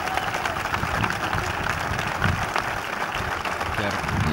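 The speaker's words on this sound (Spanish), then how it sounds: "Gracias, y aplaudamos por Lautaro, por favor" Crowd clapping at an outdoor rally and march demanding justice for a murdered young man, a steady dense patter of many hands under a loud, continuous wash of crowd noise.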